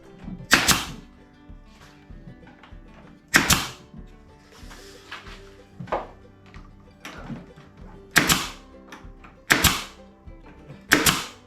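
An air nail gun fires 1-inch brads into wood while building a workshop dust collector, giving about six sharp, close pneumatic snaps at irregular intervals, with quieter handling and tapping noises between them.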